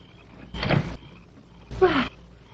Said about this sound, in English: Open the door, Mrs. Jarvis.